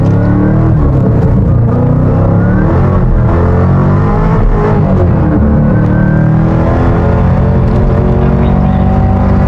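A car launches at about 2,000 RPM and accelerates hard, its engine roaring loud and close in a steady, continuous drone that climbs in pitch, with no speech over it.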